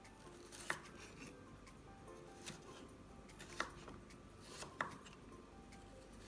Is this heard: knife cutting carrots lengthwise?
yes